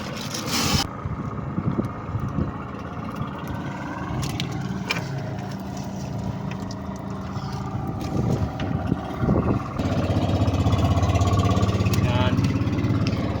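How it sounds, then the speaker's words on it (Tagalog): Motorboat engines droning as boats head out to sea, a steady rumble under wind with people talking, growing louder and heavier in the final few seconds. "Daming mga bangka nagsilaot mga kasisters."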